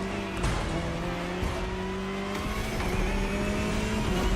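Jaguar CX-75 concept car in the racing game The Crew Motorfest, a steady loud engine drone with shifting harmonic tones and faint tire squeal, no voices.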